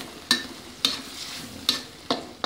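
Spice paste frying in a pan with lemongrass stalks, galangal and bay leaves, for docang from Cirebon; four sharp stirring scrapes, evenly spaced, over a steady close sizzle.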